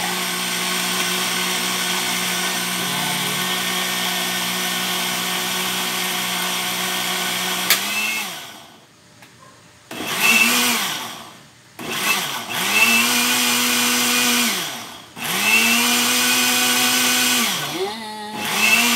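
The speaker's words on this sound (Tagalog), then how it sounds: "Blender" A new kitchen blender whirs loudly and steadily at close range, then cuts out and restarts in several pulsed bursts, its motor pitch dipping and rising with each start and stop, with no talking.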